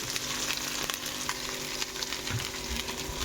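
Ginger paste, added with onions, fries in oil in a pan, giving a dense steady sizzle with light stirring clicks throughout, close and without speech.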